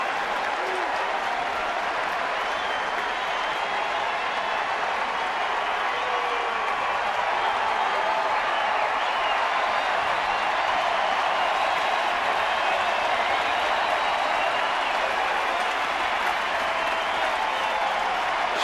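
Sellout baseball crowd at AT&T Park, a steady wide roar of applause and murmuring that holds unbroken from start to finish, with a commentator's voice faintly present.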